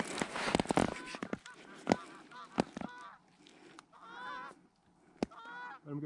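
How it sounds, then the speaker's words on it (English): Canada geese honking in a field during a North Dakota goose hunt, a flock calling repeatedly in overlapping honks with sharp sudden bangs between, some near and some farther off, with brief voices in the background. "I'm gonna shoot these 2 geese."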